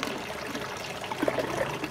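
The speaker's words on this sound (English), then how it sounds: "you can see the water's coming through the single inlet and then out through the bell there" Water trickles and flows through an external bell siphon on an aquaponic grow bed, a steady faint gurgling stream with a few small bubbly blips toward the end, no voices.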